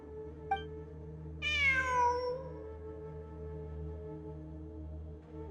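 A single drawn-out cat meow from the Genshin Impact video game rises clearly over a steady, low ambient hum, with faint soft ticks before and after.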